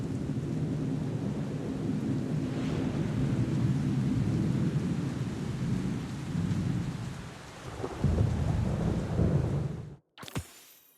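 A thunderstorm in the Destiny: Rising video game: steady heavy rain and deep rolling thunder fill the scene, with a louder rumble near the end before it cuts off abruptly, no voices.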